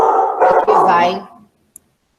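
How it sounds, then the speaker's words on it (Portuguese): A female dog barks and howls loudly and close by in a short burst indoors, a dense vocal outburst lasting just over a second before stopping, then a brief click. "Peço desculpa aí pelo latido da cadela."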